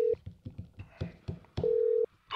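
Telephone ring heard over a call line: two long electronic ring tones separated by a rhythmic series of soft thumps, fairly close and clear, with a voice starting right at the end.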